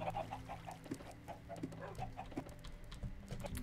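Several chickens clucking in Minecraft, gathered together on an egg farm, a steady run of short, repeated clucks in a busy overlapping chorus with no voices over it.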